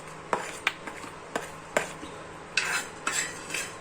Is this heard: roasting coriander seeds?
yes